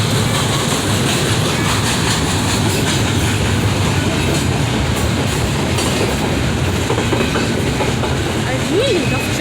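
A BNSF train rolls past close by, a loud, steady roar with rhythmic clickety-clack of wheels and faint squeals throughout.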